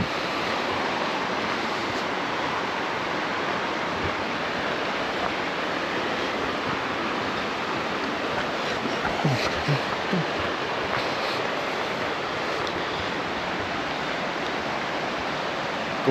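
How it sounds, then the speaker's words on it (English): Little River in an Olympic rainforest flowing along the trail, a continuous, fairly loud rushing wash of water that stays even from start to finish, with a faint thump near the end. "Gorgeous, gorgeous piece of river."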